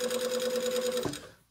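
Sewing machine running a steady, rapid stitch along a garment seam from shoulder to center back at straight-stitch length 2.5, loud and close, stopping abruptly near the end.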